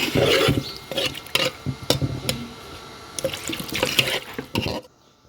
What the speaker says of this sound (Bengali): এখন আমি পানিটা দিয়ে দিব